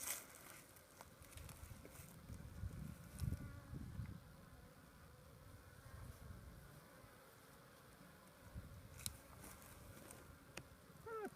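A package of honeybees buzzing steadily up close, a dense insect hum that swells and fades in waves, with a few handling knocks and bumps around it.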